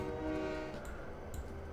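A locomotive horn in Train Simulator 2020 on Soldier Summit with an SD40-2, a steady sustained tone held for nearly two seconds over low rumbling train noise.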